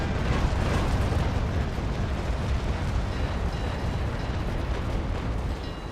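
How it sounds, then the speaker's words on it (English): Frigate broadside cannons firing in a Naval Action Legends duel, a dense, sustained rumbling barrage of overlapping blasts, loud and steady throughout with no talk. "Aim for the waterline and fire."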